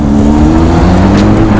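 BMW and Mercedes convertibles revving in a street race, a loud, close, continuous engine roar with a steady low drone and sustained acceleration under it.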